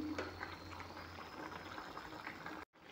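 Fish curry with mirika fish and bitter gourd bubbling steadily in a pot, a soft continuous boil heard close and alone, cutting off abruptly near the end.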